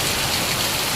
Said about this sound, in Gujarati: તો ગમગમાઈને વરસાદ ચાલુ છે.